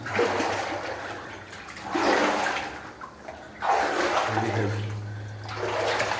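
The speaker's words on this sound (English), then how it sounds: "Splashing along like a golem, moving through the misty mountains." Wading through water in a misty mountain area of the New Zealand goldfields, swishing splashes rising and falling in three or four heavy strides, close by.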